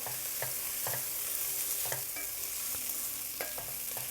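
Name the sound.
stirring jasmine rice with chicken in a pot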